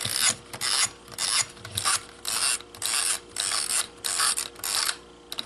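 A manual film advance mechanism ratchets in repeated close clicking strokes, roughly eight even bursts of rasping mechanical catches with brief gaps between them.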